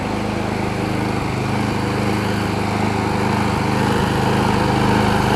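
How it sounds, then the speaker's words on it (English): A Troy-Bilt push mower with a Briggs 5hp Quantum engine runs steadily close by, a loud continuous drone with a slight surge, no voices. "it started on the first pull with a little bit of carb clean"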